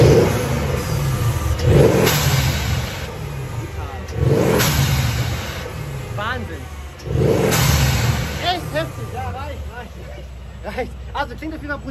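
Mercedes-AMG car engine with intakes and a modified petrol particulate filter, revving hard in repeated loud bursts that rise and fall, heard close with people talking over it.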